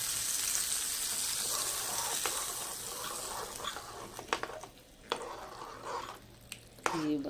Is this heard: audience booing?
no